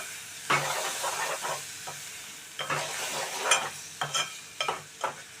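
Two large chopped ripe tomatoes fry in a pan while a utensil stirs them, bringing bursts of sizzling and spatula scrapes between quieter stretches of low frying hiss, close and without voices.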